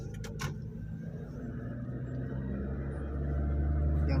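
An Isuzu manual pickup pulls away during a driving lesson, a low steady engine drone that rises gradually in pitch and loudness, heard from inside the cab.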